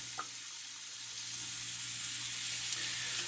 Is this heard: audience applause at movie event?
no